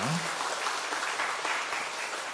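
A church congregation applauds the choir with a dense, steady wash of clapping that continues throughout, with a brief voice at the very start.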